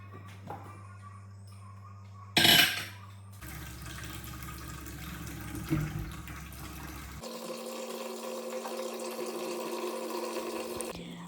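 Boiled Heegurala yams are washed in water, with a running tap and splashing that starts and stops, a brief louder gush near the start, then a steady stream.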